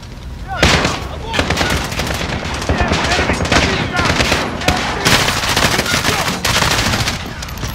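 Sustained machine gun fire in the Call of Duty Modern Warfare campaign, rapid loud bursts layered with other gunfire and explosions in a dense battle, with voices shouting under the din.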